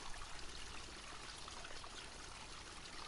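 A forest stream trickles and splashes steadily, a dense, even wash of running water that stays close and constant throughout, with no voices.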